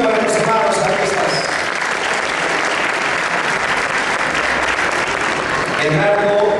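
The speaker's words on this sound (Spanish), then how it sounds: "Ese aplauso merecido para los hermanos artistas." At an award ceremony honouring two artist siblings, a crowd applauds warmly, a dense, sustained clapping that fills the room and keeps steady for several seconds while voices murmur beneath it.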